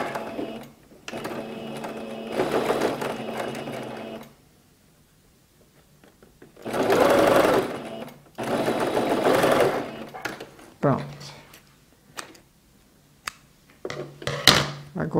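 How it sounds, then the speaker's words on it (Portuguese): A sewing machine stitching bias binding onto fabric for a multipurpose organizer, running in several loud close bursts of rapid needle hum separated by pauses, with light handling noises between. "Junto as duas partes do viés e vou costurar."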